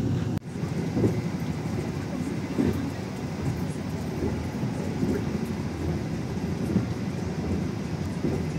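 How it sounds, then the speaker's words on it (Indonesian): Gaya Baru Malam Selatan passenger train departing and running, a steady low rumble of wheels and carriage noise throughout with faint rhythmic knocks, heard from on board at close range. "Pukul 15:03 kereta api Gaya Baru Malam Selatan berangkat dari stasiun Perupuk."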